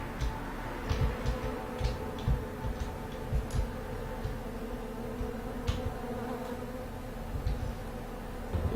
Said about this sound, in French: est-ce que tu entends le doux bruit des abeilles?